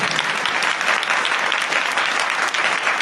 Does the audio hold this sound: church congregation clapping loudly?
yes